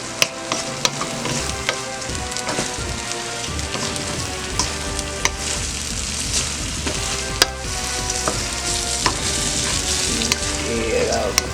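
Egg fried rice sizzles and crackles loudly in a hot pan while it is stirred, with steady frying hiss and occasional scraping knocks of the utensil throughout.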